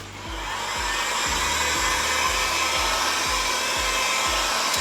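A hair dryer blows steadily close by while drying a chalk transfer, a loud continuous whirring drone with a faint pulsing throb and no talking.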